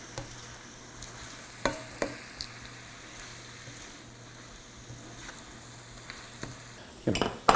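Food cooking down in a pan, with sausage also part of the dish, sizzles quietly and steadily, broken by a few sharp utensil clinks and stirring scrapes, then louder clatter near the end.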